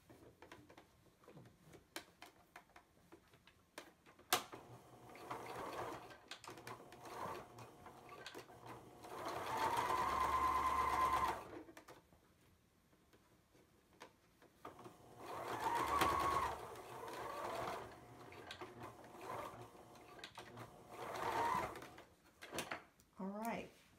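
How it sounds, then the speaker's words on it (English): A sewing machine stitches the side of a fabric face mask with filter pockets, running in several steady bursts with pauses between them, close and moderately loud, with some quiet talk and handling noises in the gaps. "Off my extra thread, sew the other side."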